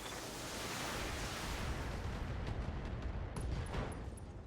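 A mech fires a full long-range missile salvo in the video game Battletech, producing a dense, rumbling roar of launches with sharper bursts near the end, loud and continuous with no speech.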